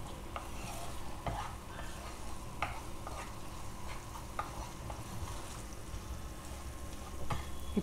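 Mawa roasting in about 40 grams of desi ghee while a utensil stirs it steadily, with a continuous close sizzle broken by repeated scraping strokes against the pan.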